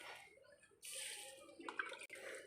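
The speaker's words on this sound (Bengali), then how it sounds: "মা বাগানে গাছগুলোতে জল দিচ্ছে দেখো।" A mother watering potted plants in a home garden, with a steady broadband rush of pouring water that starts after a short quiet moment and continues close by, briefly interrupted near the end.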